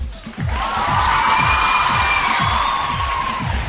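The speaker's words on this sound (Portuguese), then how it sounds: "Aplausos para a declaração e a performance da Karen." A TV studio audience on a Brazilian variety show cheers and claps after a contestant's performance, with a loud, sustained crowd roar, whoops and rhythmic clapping that holds steady throughout.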